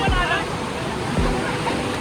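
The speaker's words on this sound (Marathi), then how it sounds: "दोन डोंगराच्या मधूनच एका 7 स्टेपनी पाणी चाललं आहे." Water tumbling down seven rocky steps of a waterfall between two hills in the Konkan during rain, a steady rushing wash heard under a voice talking.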